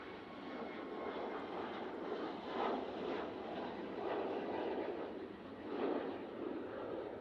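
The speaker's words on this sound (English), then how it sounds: "we do have Ryanair making its way towards us using the 737 MAX 8" Ryanair Boeing 737 MAX 8 jet taking off at Manchester Airport: a steady, broad engine roar swelling slightly in waves as it passes, continuous throughout with no talk.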